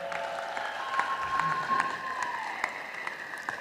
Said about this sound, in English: How about a nice round of applause for all the gals playing in tonight's games?